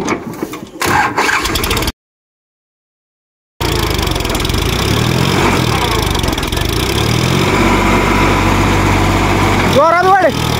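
A Swaraj tractor engine revved hard at full throttle, a loud, steady, close roar after a short cutout, with voices talking over it.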